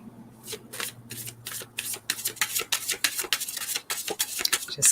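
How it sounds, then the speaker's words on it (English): A deck of playing cards is shuffled several times close up, a run of quick riffling bursts and soft rubbing with a faint low hum beneath. "Just kind of shuffle a couple of times before I split the deck."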